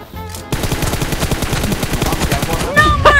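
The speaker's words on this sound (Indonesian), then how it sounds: "Lu bang nembak pakai M4" M4 rifle fire in the mobile battle-royale game PUBG Mobile comes as a rapid, loud automatic burst of evenly spaced shots, with a brief clatter of effects at the end.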